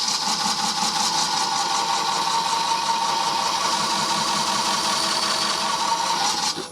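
A lathe with a 2 horsepower motor on its high torque range strains as a Woodcut Max3 hollowing tool cuts wood, giving a loud, steady grinding and scraping hum that continues unbroken before cutting off at the end.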